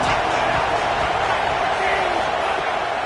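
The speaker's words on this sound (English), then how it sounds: "Challenge this crowd to bring the energy, and I'd say they're doing that" Football stadium crowd roaring in a steady, dense wash of cheering noise for a few seconds, loud and sustained with a commentator's voice over it.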